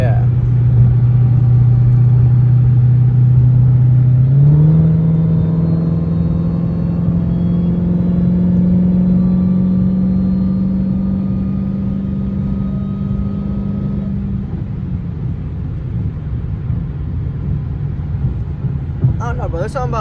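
Dodge Hellcat engine pulling under acceleration while driving, a loud, close, steady rumble that climbs in pitch and then eases back into a lower drone, heard from inside the car.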